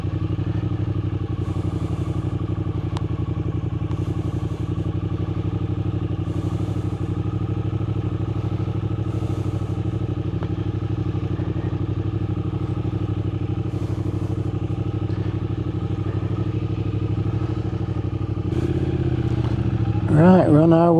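Triumph Speed Twin 900 motorcycle being ridden, a steady close engine drone and wind rumble throughout, with a brief louder burst near the end.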